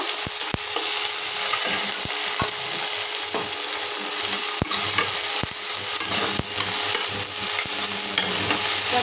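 A spoonful of ginger paste fries with mixed vegetables in a Bengali curry, giving a loud, dense sizzle punctuated by frequent sharp scraping and tapping of a spatula against the pan throughout.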